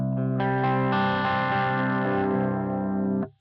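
A single sustained electric guitar chord rings out as a clean reference tone before testing Walrus Audio pedals, slightly distorted and chorus-tinged, played alone and cut off after about three seconds.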